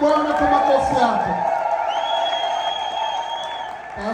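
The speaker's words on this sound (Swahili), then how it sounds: "mshangilie Bwana kwa makofi yake" A church congregation at a Sunday service claps and cheers in praise, and the crowd noise runs steadily beneath amplified voices and sustained tones from a keyboard or organ.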